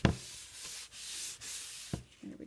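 Chalk paste is scraped off a wooden surface in a few close, soft rasping strokes, each sweep a dry rubbing scratch with short pauses between, quiet and alone.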